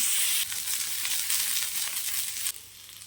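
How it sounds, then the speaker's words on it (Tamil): Small shallots sautéing in hot oil for a mutton varuval, a loud, dense hiss that flares up abruptly, holds steady, then drops back, heard close and without speech. "சின்ன வெங்காயம் சேர்த்துக்கலாம் எண்ணெய் சேர்த்துக்கலாம் நல்லா வதங்கட்டும்"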